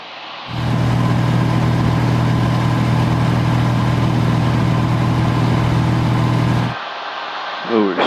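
Steady drone of a Cessna 172 piston engine cruising at 11,500 feet, a loud, constant low hum that fills the cabin for several seconds before dropping away near the end.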